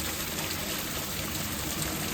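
Steady broadband rush of a waterfall tucked away in the Royal Tasmanian Botanical Garden, an even continuous wash of falling water with no voices over it.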